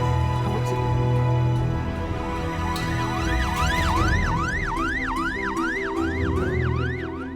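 An ambulance siren in a Pakistani drama scene, loud and close, wailing in a fast, regular up-and-down cycle that builds in over a steady engine rumble.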